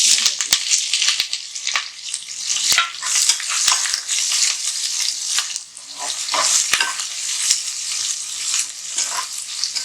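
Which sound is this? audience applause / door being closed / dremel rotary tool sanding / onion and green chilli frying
onion and green chilli frying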